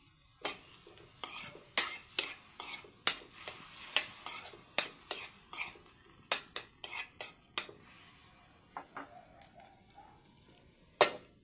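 Small fish stirred in a pan with soy sauce, a quick series of sharp metallic scrapes and clinks in an uneven rhythm that thins out and stops near the end, close and fairly loud over a quiet background.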